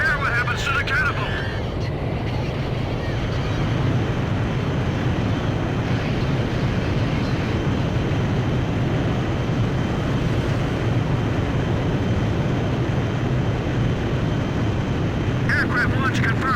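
An aircraft launching off a carrier catapult in Ace Combat 5, heard as a steady, loud jet engine roar held for the whole stretch with a faint radio voice at each end.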